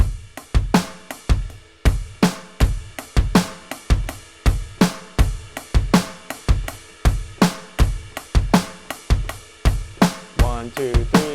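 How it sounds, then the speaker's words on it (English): A drum groove of punchy kick and snare hits in a looping 7/8 pattern with steady eighth-note cymbal taps, played alone and loud. "I'm just going to play eighths here just so we can focus on the kick and snare"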